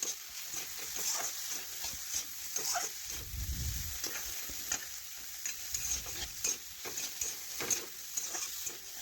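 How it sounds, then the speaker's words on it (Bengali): Spices fry with chili powder in a pan for vegetable dal, giving a close, steady sizzle broken by scraping stirs of a spoon against the pan. "আমি কষে নিচ্ছি মশলার সাথে, তাহলে মশলার কাঁচা গন্ধ কিন্তু চলে যাবে।"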